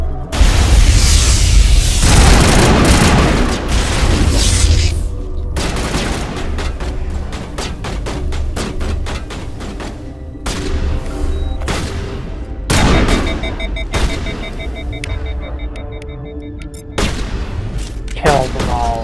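Sustained gunfire and explosive booms from a firefight in the video game Mass Effect, loud bursts and rapid volleys throughout with heavier blasts, voices briefly heard among the shooting.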